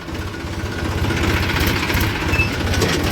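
Motorcycle engine running on a farm track, a close, steady low pulsing thrum with a rapid, even beat that stays loud throughout, with no talk.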